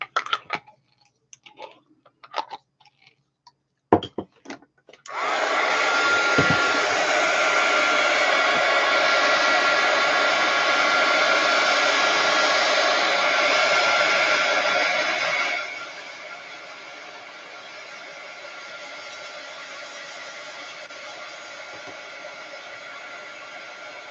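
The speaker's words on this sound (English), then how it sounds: "So now I'm going to just heat gun this again." A heat gun drying an art journal page blows with a loud, steady whoosh for about ten seconds after some light clicks and handling noises, then drops to a quieter hum.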